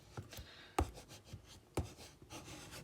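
Cricut paper is scored by hand for a bookmark, producing quiet scratchy strokes with a few sharper taps, close up and faint.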